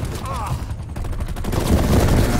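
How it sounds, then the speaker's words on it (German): Gunfire in the multiplayer shooter Call of Duty Black Ops Cold War, a dense, continuous burst of shots and chatter of weapons that swells toward the end, with a voice speaking briefly over it. "Wer schießt denn hier nur?"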